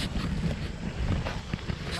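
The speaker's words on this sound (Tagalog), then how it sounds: "Mahangin na kasi eh." Steady wind buffets the microphone with a low rumble at a seaside fishing spot as the tide comes in, with faint voices mixed in.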